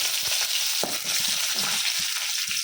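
Mustard seeds, fenugreek powder and small shallots frying in hot oil in a clay pot for a fish curry, with a loud, steady sizzle broken by scraping stirring taps close by.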